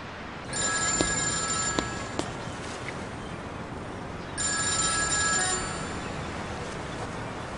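A telephone rings unanswered in two separate bursts of electronic trilling, each lasting a few seconds with a pause between, fairly near over a quiet room with no talk.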